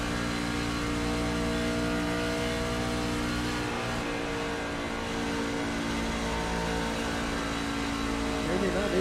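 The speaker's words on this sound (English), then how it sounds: "you'll hear him shutting the truck off as he goes down into the corner" A racing pickup truck in the iRacing game at Kansas Speedway drones with a steady, loud engine hum, the tone shifting and easing as the throttle comes off going into a corner; no speech is heard.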